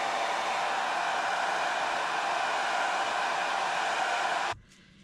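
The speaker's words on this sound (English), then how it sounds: "Okay, I'm using my hair dryer." A hair dryer blows steadily and loudly up close to melt glue on a fairy-garden craft of glow-in-the-dark rocks, then cuts off abruptly near the end, leaving near silence.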